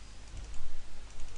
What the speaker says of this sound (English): I don't know if you can hear the clicking.